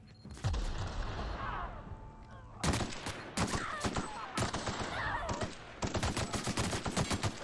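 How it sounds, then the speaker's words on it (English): A mine detonates in the sci-fi video game The Outer Worlds, heard amid a run of loud, sharp blasts and crackling gunfire-like bursts that repeat in clustered volleys across the scene. "Good job, you detonated the mine."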